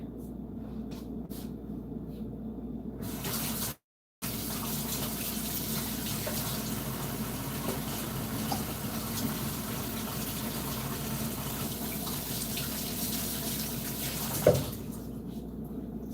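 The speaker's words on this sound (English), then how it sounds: "You always want to wash your hands in between touching like raw meat too" Water runs steadily from a kitchen sink tap during handwashing, a continuous soft rushing stream that is briefly cut off near the start and ends with a small clunk toward the end.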